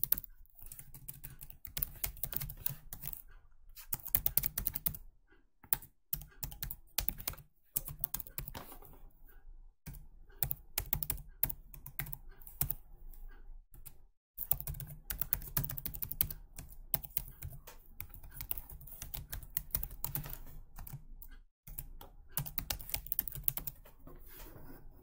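Someone types on a computer keyboard in close, quiet bursts of rapid key clicks, separated by short pauses, continuing for around twenty-five seconds.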